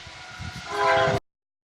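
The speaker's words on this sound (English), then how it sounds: "We got a train coming by." A train passes near a rugby pitch, a rising rumble that swells with tonal rail squeal and horn-like hum, then cuts off abruptly.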